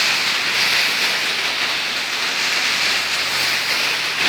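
Heavy rain pours steadily in a dense, continuous hiss with no pauses, close and loud throughout.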